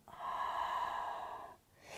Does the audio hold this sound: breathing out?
yes